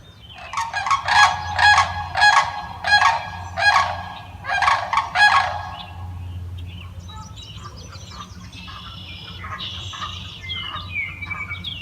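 Sandhill cranes give loud rolling, bugling calls in a series of about six close bursts, then quieter distant calls continue over a low steady hum outdoors.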